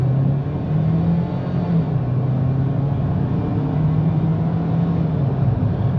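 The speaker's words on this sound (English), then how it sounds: "Let's go ahead, guys, and go. And we'll give it here a little bit of acceleration." A 2025 Ford Maverick XLT FX4 with a 2.0L engine accelerating on the road, heard from inside the cabin as a steady low engine drone with a slowly rising and falling tone.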